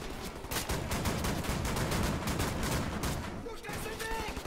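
Two shotguns blasting down a hallway in Wolfenstein: The New Order, dense overlapping gunfire with sharp repeated booms that fill the space for several seconds, then a brief lull and a clatter as the shooting tapers off.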